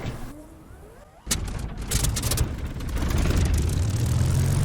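Spitfire Mk-IX engine in DCS World cranks and catches with a sudden loud burst, then settles into a steady, rough, heavy idle rumble that grows slightly louder, with no voices.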